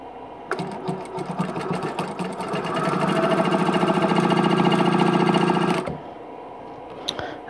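A sewing machine chain piecing quilt block pieces along a quarter inch seam: after a brief start, the motor runs in a steady, rapid, close stitching rattle that builds slightly, then stops, followed by a few small handling clicks.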